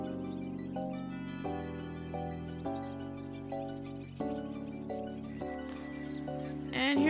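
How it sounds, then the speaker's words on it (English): A small bicycle bell rings in the video game Minami Lane, bright metallic dings repeating over a gentle looping melody of soft tones, ending with a brief louder flourish. "I do appreciate that they have a little bell ring"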